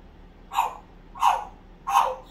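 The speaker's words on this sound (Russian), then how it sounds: "Собачка." A dog barks three times at an even pace, each bark short and clear against a quiet background.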